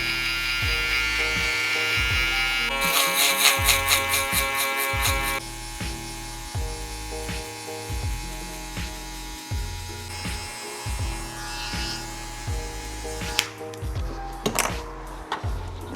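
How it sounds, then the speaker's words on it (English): A buzzing electric hair trimmer cutting hair during a barber's mid taper fade, a close, steady motor drone whose pitch and strength shift as it moves through the hair, with brief clicks near the end. "I'm going to go in with my trimmer"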